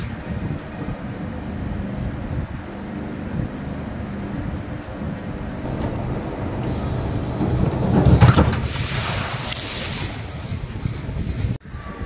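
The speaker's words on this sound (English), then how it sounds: "It is windy up here" Strong wind roars across the microphone, rumbling and gusting, with a louder blast near the end; open, exposed outdoor ambience with water nearby.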